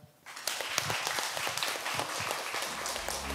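Audience applause at a Hwaseong city policy forum on a basic-society model, breaking out after a short quiet start and continuing as a steady, dense clapping wash through to the end.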